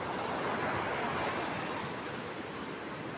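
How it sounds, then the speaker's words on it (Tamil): Rough sea surf at Nilaveli Beach, a steady dense roar of breaking waves that stays loud and unbroken throughout, with no voices over it. "கடல் வந்து சற்று கொந்தளிப்பாக தான் இருக்குது"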